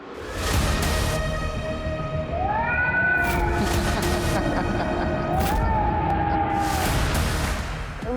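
A cat meows repeatedly in an audition clip, several drawn-out, rising and falling cries standing loud and close over a busy background.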